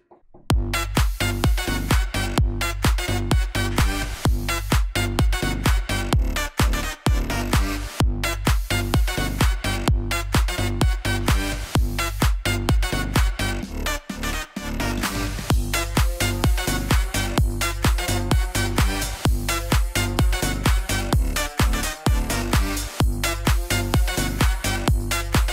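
Full future bounce EDM track produced in FL Studio, a continuous loud mix of punchy kick, bouncy bass and bright layered synth leads driving steadily for the whole stretch with no voice.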